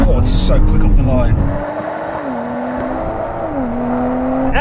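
An Audi S5, a Mercedes-AMG C43 and a BMW M340i launch off the line together in a drag race, a loud engine roar rising in pitch through gear changes, heard close with a voice over it.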